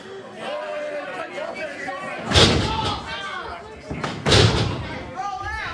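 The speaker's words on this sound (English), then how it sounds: "Hoyt now stomping on the back of Andy" Wrestler stomping on an opponent's back in a wrestling video game, two heavy slamming thuds a couple of seconds apart over steady commentary and crowd noise.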